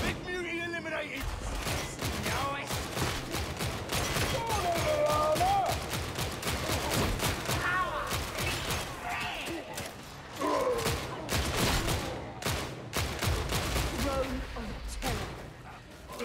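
Rapid gunfire from Warhammer 40,000: Darktide, a firefight with weapons hammering into an enemy's shield, dense bursts and thumps running throughout under a talking voice and game music.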